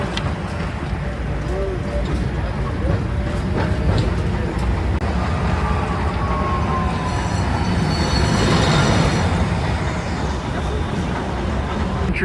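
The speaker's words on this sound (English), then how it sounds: "it's a pretty cool little train ride" A small tourist train in Santa Teresa, Rio de Janeiro, rumbles along steadily with clattering wheels and occasional metallic squeals, the ride noise continuous throughout.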